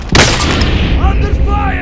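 A single sharp gunshot cracks loudly in the Call of Duty Modern Warfare game and rings out into a rumbling echo. Someone starts talking over the tail of the shot.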